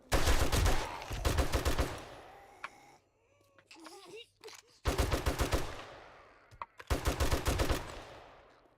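Bursts of rapid automatic gunfire in the survival game 7 Days to Die, loud volleys separated by quieter gaps with scattered single shots and faint in-game sounds.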